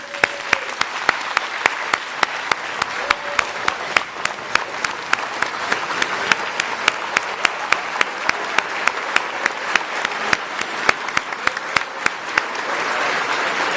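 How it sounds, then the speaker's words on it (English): A school audience at a varsity award ceremony applauds its varsity athletes with steady clapping that goes on throughout. Single sharp claps stand out clearly above a dense wash of hand claps. "let us all stand together and give our varsity athletes a round of applause"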